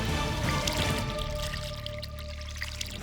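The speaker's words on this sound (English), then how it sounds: "That's the simple design of a DIY waterfall." Water running through a DIY paludarium waterfall fed by a filter hose and restrictor, a steady near pouring and trickling with a few drips, no talk.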